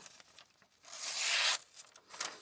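A Civivi Elementum button-lock knife blade slices through material with a quiet, rasping tear that swells for about a second, set among softer faint rubbing and handling noises.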